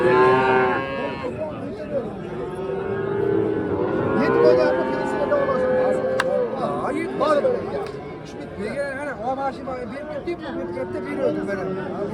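Cows moo repeatedly in a noisy livestock market, with people talking throughout and the lowing rising over the crowd.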